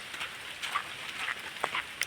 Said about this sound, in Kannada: ಜೋರು ಮಳೆ ಬರ್ತಾ ಇತ್ತು, ಒಂದು 15 ನಿಮಿಷ ಆಯಿತು ಮಳೆ ಬರಲಿಕ್ಕೆ ಶುರುವಾಗಿ.